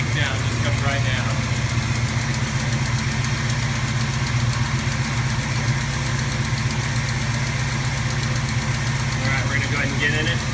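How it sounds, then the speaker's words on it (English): A 1978 Dodge Ramcharger engine idles high with a steady, throbbing rumble and a faint rattle, holding constant and near throughout. "whenever you start it up, it idles high"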